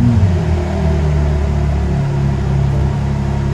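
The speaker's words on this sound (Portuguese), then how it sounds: "Vai ligar o carro, Cristian? Vou ligar agora, meu amigo." A 2024 BMW M3 Competition engine runs with a loud, steady low rumble and harmonic drone throughout, with a slight rise in pitch early on, no talking over it.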